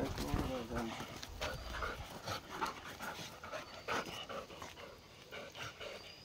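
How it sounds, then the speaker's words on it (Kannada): A dog pants quickly and steadily while playing with another dog on a forest trek near waterfalls in a plantation area, heard close under intermittent talking and outdoor rustle. "ಏಯ್ ಅಲ್ಲಿ ಲಕ್ಕಿ, ಇಲ್ಲಿ ಒಂದು ಡಾಲಿ ಅಂತ ನಾಯಿ ಇದೆ, ಲಕ್ಕಿ ಜೊತೆ ಆಟ ಆಡ್ತಾ ಇದೆ."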